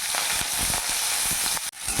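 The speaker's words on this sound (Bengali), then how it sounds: "তেল গরম হয়ে গেছে এখানে পেঁয়াজ কুচি আর লঙ্কা কুচি দিয়ে দেবো" Chopped onion and green chilli hit hot refined oil in a kadai, producing a dense, steady sizzling hiss close by, with faint stirring ticks and a momentary dip near the end.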